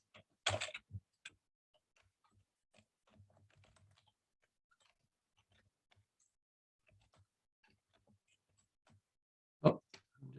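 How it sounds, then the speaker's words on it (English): Sparse taps on a computer keyboard: a short burst of clicks at the start, scattered faint keystrokes through a long quiet stretch, then another quick cluster of keys near the end. "Oh, I'm just typing away here."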